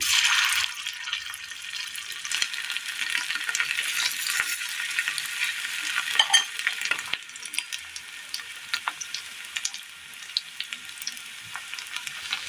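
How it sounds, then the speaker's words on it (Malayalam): Marinated chicken sizzles steadily in hot oil for a Kerala recipe, a loud continuous frying hiss with scattered pops and crackles that thin out slightly toward the end; no voices. "ഇനി ഈ എണ്ണയിലേക്ക് നമ്മൾ മിക്സ് ചെയ്ത് വെച്ചിരിക്കുന്ന ചിക്കൻ ഇട്ട് കൊടുക്കാം."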